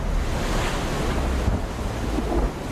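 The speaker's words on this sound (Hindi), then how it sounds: "तेज हवाओं के साथ समुद्र में ऊंची लहरें" Strong wind and high sea waves during Cyclone Yaas at Digha, a continuous roaring rush of surf and buffeting wind noise on the microphone, loud and steady throughout with no voices.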